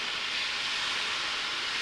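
Butter heats in a frying pan with a continuous broadband hiss of sizzle and steam, steady and moderately loud, without talk.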